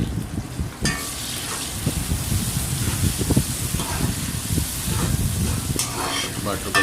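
Chopped tomatoes hit golden-brown fried onions in a hot pan for mutton achari gosht, setting off a loud, steady sizzle and frying crackle with stirring scrapes, continuous throughout.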